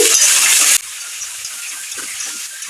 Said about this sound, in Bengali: এবারে দিয়ে দিচ্ছি কেটে রাখা জলপাইগুলো জলপাইগুলোকে তেলের সঙ্গে ভালো করে মিশিয়ে দিচ্ছি